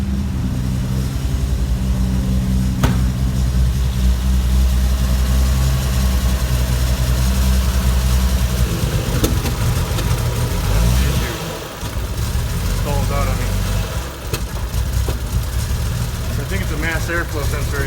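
A Lexus GS350 with a 1JZ engine swap and a slight misfire runs at a steady, close idle, its low rumble continuous throughout with a brief dip near the end.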